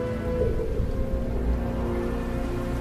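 Steady, heavy rain pours continuously, a dense hiss of falling water with no pauses and no voices.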